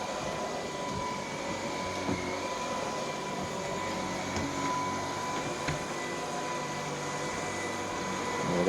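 A vacuum cleaner runs beneath a very low couch, giving off a steady, even motor drone and airflow hiss that holds at the same level throughout, with no voices.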